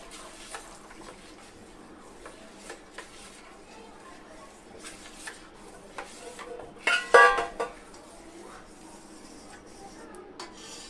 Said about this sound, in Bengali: এই দেখুন, অল্প অল্প দিব আর এভাবে একটু নেড়ে চেড়ে দেবো চামচ দিয়ে।